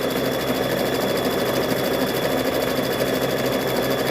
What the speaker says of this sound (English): I'm going to sew down this edge too